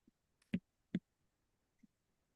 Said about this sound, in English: put your scissors right at the edge of your wings, and you're going to cut the ends off.